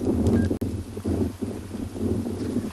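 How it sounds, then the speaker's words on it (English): Steady wind buffets the microphone outdoors at sunrise on a safari at Tswalu, in low, rumbling gusts, filling the clip with a continuous blustery roar. "it's very windy here today."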